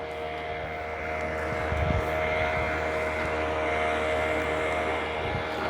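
A boat's engine drones steadily and fairly loudly as it pulls into the harbour at the Myliddy fish market, with a constant low hum and a few rougher bursts partway through.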